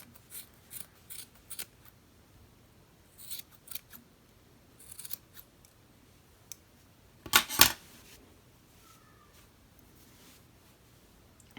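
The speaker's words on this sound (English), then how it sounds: "I like to just go a couple different ways when I'm trimming just to make sure." Scissors trim the yarn ends of a crochet tassel in a run of light, crisp snips that come in small clusters from several angles, then a louder close burst of snipping near the end, with no voices.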